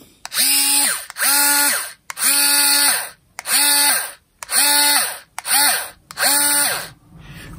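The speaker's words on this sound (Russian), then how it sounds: "это сверление, я так понимаю, максимальное 300 оборотов в минуту" DCA ADPL04 cordless screwdriver running in drilling mode, whirring in seven short bursts, each spinning up, holding a steady whine and stopping, close and loud with brief pauses between.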